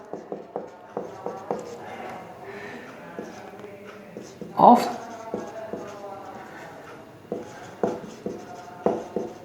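Chalk or a marker taps and scratches across a classroom board during a physics lesson, in short rhythmic strokes with one louder knock, while a teacher talks throughout.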